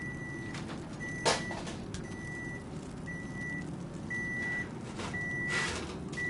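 An oven gives a series of high, electronic beeps, repeating about once per second against a quiet background hum.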